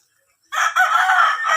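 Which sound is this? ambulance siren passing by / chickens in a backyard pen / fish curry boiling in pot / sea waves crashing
chickens in a backyard pen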